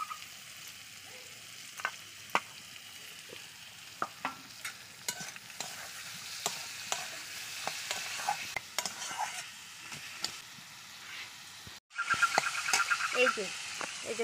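Carrot, chopped onion and green chili fry in a pan, a quiet sizzle under frequent scraping and clinking strokes of a stirring spoon, turning louder and denser near the end.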